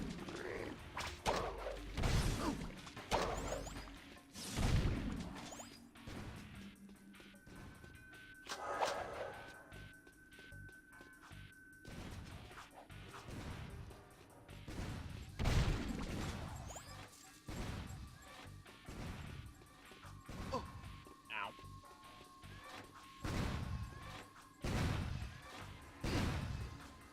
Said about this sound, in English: What is with those explosions?